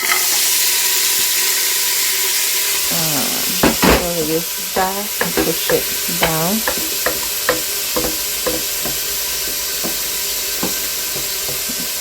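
Chopped onion sizzles and hisses in a hot pan for a minced meat and vegetable spaghetti stir fry, with scraping stirring strokes and someone talking over it.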